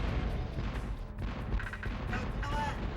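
Cannon fire from the Spyro: Year of the Dragon video game, a dense run of booming blasts that fills the whole stretch at steady loudness, layered with other game sound effects.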